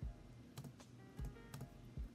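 Keys being pressed on a Lenovo Legion 5 laptop keyboard: a handful of soft, close clicks and taps spaced irregularly over a couple of seconds, quiet and with no talk.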